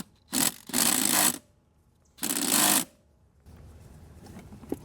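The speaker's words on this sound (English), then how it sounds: "I'm gonna try to remove it with impact wrench" Two loud bursts of an impact wrench working on a brake caliper bolt of a Mercedes ML350, a longer hammering run then a shorter one with a pause between, in a quiet garage.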